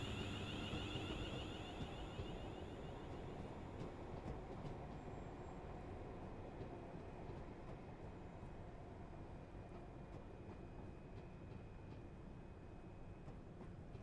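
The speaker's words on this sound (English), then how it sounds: "Is it just me or did that AI train just spad?" AI-driven train rolling past in Train Sim World 6 on a Glasgow route, a steady low rumble of wheels and running gear held at an even level for the whole stretch, with no talk.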